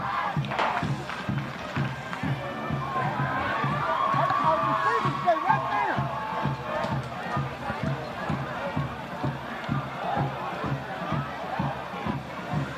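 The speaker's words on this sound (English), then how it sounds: "Most of the EUFAULA fans are still here and cheering their squad on, getting ready to celebrate." Eufaula fans cheer their squad at a high school football game against Checotah, a sustained crowd roar with rhythmic chanting or pounding, heard at a distance under close talking.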